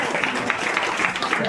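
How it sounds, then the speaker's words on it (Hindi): Audience applause at a school children's day celebration, a dense, steady wash of clapping heard close, with faint voices mixed in. "सेमाने पिले तम पई करताली मारले"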